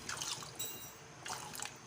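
Water goes into a cooking pot for a tamarind-soured snapper-head sinigang, heard as two short, faint splashing bursts with a quiet pause between them.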